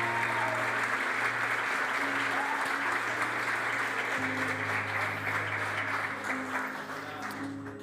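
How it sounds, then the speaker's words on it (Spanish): Sustained congregation applause fills a church service, a steady dense wash of clapping running the whole stretch, with held musical tones underneath and a slight fade toward the end. "Dale un aplauso al Señor."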